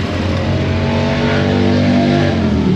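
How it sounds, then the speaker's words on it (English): A loud idling car engine with an exhaust leak at the EGR valve rumbles steadily up close, with a rough, ticking exhaust note layered over the low drone. "EGR valve is the exhaust leak."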